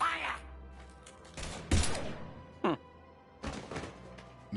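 Bursts of gunfire from the video game Mass Effect 3 come in a few sharp volleys, one heavy blast and a longer rattling stretch, mixed with game voices and effects.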